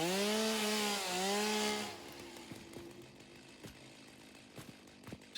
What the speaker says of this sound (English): if I get my chainsaw out, I should be able to just cut these